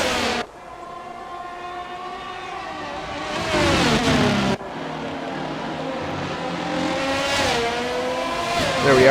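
Formula 1 car from F1 22 racing at Circuit Gilles-Villeneuve, a loud, steady engine whine that climbs in pitch through the gears, with brief shifts and a short drop in revs, overtaking a lapped McLaren.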